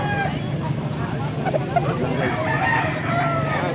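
A rooster at a Pampanga gamefowl market crows amid steady crowd babble and nearby chatter, the call rising moderately over the busy background.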